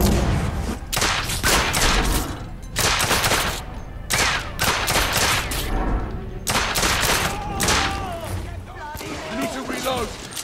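Gunfire in the video game The Order 1886 crackles in dense, rapid bursts of shots and booms, nearly continuous across the scene, with a voice talking over it.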